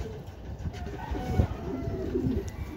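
Two red bar racing pigeons, nestmates, cooing softly at the loft after landing together from a 175 km training toss. Low, murmuring coos sit under a hum of background noise.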